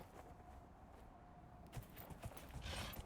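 Horse hooves clopping during a ride in Dragon Age: Inquisition, faint and uneven, with a few soft thuds and creaks under a low ambient bed that grows busier toward the end.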